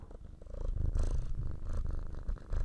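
Close, steady purring from a cat right up against the microphone, a low rhythmic rumble with brief breathy rustles layered over it.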